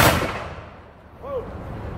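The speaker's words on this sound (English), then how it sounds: "Squad, prepare to fire, ready, aim, fire." Squad volley of firearms shot in unison during a drill at the Alamo in San Antonio, Texas: one loud, near blast at the start, followed by a long, echoing rumble that dies away.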